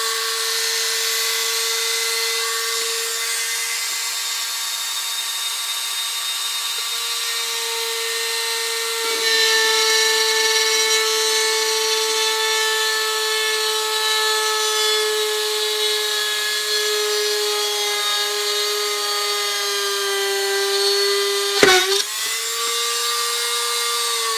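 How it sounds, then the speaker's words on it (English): A power drill at its maximum speed setting whines steadily as it bores into wood, its pitch shifting partway through and briefly dipping near the end. "just from the weight of the tool, I'm going to drill a hole"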